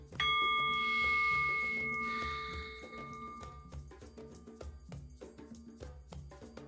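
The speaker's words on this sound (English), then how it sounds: "And by the sound of the bell" A single bell rings out once during a new moon blessing ritual, a clear, sustained tone that decays slowly while soft rhythmic music keeps playing underneath.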